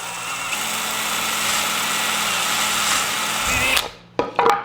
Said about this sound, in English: I grabbed a 3/16 drill bit here, and that should do the trick.